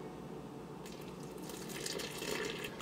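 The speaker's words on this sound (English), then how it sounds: "add in our water" Water poured into a bowl of bread flour and sourdough starter for a white sourdough loaf, a steady close splashing pour that starts about a second in and builds, with no talk.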